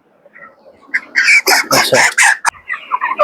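Broiler chickens are handled and cluck and squawk loudly up close in a dense cluster of bursts, followed by softer clucks and a brief spoken word.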